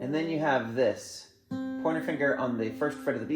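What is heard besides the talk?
No distinct noise like a dog, phone or traffic.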